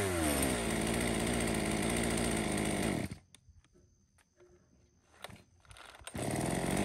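A Japanese-market chainsaw for home wood cutting of logs up to about 25 cm roars at high revs, drops to a rough, sputtering idle for a few seconds, then revs back up loudly; nothing else is heard.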